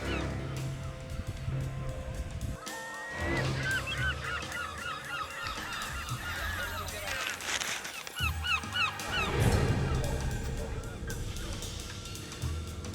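Harsh, repeated seagull calls squawk loudly over outdoor seaside background noise and occasional voices in St Ives, several gulls calling in overlapping bursts.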